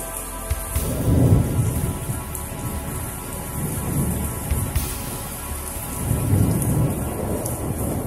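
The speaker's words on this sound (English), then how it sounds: "I think it's raining." Heavy rain pours steadily in a sudden downpour on a flooding city street, with repeated low rumbles of thunder swelling and fading in the distance.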